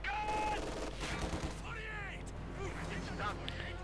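Bursts of MG42 machine gun fire rattle in the Company of Heroes 2 battle, mixed with other gunfire, explosions and game effects, while a commentator talks continuously over the dense combat noise.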